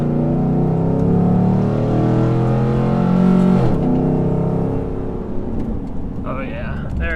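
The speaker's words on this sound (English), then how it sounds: "When I hit the gas, I mean, it just takes off." A tuned GM truck engine pulls hard under throttle, with a loud, steady harmonic drone climbing and then easing off before a brief voice cuts in near the end.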